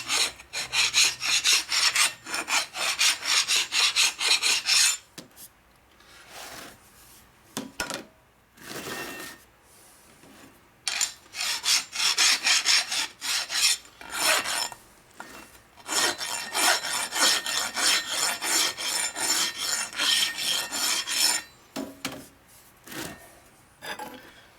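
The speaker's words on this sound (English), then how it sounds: "So big files take off big burrs quickly." A big file rasps across a Harley shovelhead motorcycle engine case to remove burrs, in repeated bursts of coarse back-and-forth strokes separated by short pauses, close and loud.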